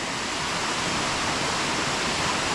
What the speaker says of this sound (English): sit here on these rocks and just watch the water going down